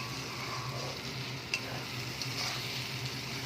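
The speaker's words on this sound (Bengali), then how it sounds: "এবার ভালো করে কষিয়ে নেব যতক্ষণ না তেল ছেড়ে আসে মশলা থেকে।" Katla fish masala fries in oil with a steady sizzle and soft stirring scrapes in the pan, plus a couple of faint clinks, close and fairly quiet, without any talking.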